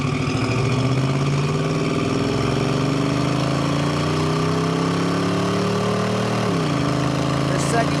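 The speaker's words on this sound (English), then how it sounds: "See if we can't do a little bit heavier acceleration here." A 1972 Chevrolet El Camino SS with its numbers-matching 350 V8 and automatic transmission pulls hard, the engine note climbing steadily in pitch, dropping at an upshift, then rising again, loud and close from inside the cabin.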